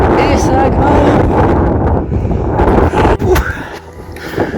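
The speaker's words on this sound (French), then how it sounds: "Il y a beaucoup de vent" Strong wind buffets the microphone in loud, rumbling gusts on a climbing stretch of the Camino del Norte coastal route near Zumaia, easing somewhat toward the end.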